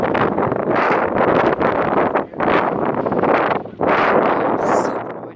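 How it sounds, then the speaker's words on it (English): Strong gusts blow across the microphone at an outdoor flea market, a loud roaring rumble that surges and drops in waves with brief lulls between blasts. "Gosh, it was so windy that day."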